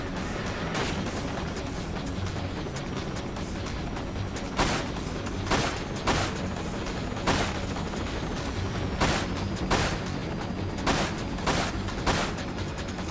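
Gunfire in the shooter game Dirge of Cerberus: Final Fantasy VII: a steady stream of shots, with sharper louder cracks standing out in irregular bursts over a dense, continuous battle din.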